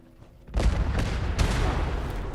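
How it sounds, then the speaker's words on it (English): A bomb explosion in Fallout 76 erupts suddenly after a quiet moment, a loud booming blast followed by rolling, crackling rumble and a second thump, close and overwhelming. "I'm detonating the bomb."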